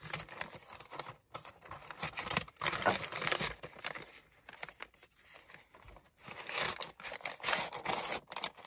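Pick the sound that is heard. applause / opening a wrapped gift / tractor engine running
opening a wrapped gift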